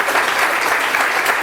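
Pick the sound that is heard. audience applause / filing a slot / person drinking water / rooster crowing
audience applause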